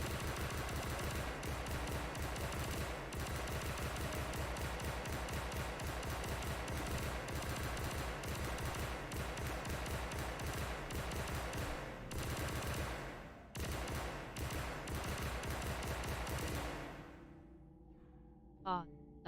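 Spaceship gun firing in ΔV: Rings of Saturn, a long dense rapid-fire stream of shots lasting many seconds, loud and continuous, then breaking off and fading into quieter ship sounds near the end.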